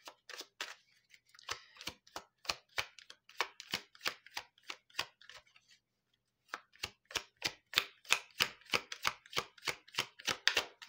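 Tarot cards being shuffled by hand, a steady run of crisp riffling slaps repeating about twice a second, close and clear, pausing briefly midway before resuming, with no talking.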